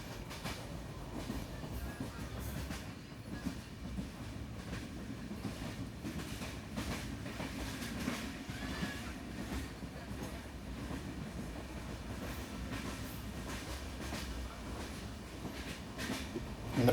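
A passenger express train, the 12134 Mangaluru–Mumbai Superfast, rumbling steadily along the rails with continuous clickety-clack and rolling noise, sustained and fairly close throughout.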